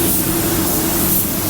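Sealer sprays onto plastic covers as a loud, steady aerosol hiss lasting the whole moment, close and uninterrupted.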